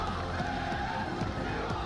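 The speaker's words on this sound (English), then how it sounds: "The crowd getting exactly what they want." Crowd at an esports arena during a Call of Duty Black Ops 6 match at the Esports World Cup, a steady roar of cheering and whoops sustained through the whole moment, loud and dense with no breaks.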